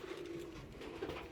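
Domestic pigeons coo softly in a loft with their young, giving a low burbling call twice over faint background noise.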